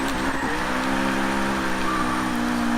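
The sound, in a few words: turbo engine of Jägermeister BMW M3 E30 in Forza Horizon 3 video game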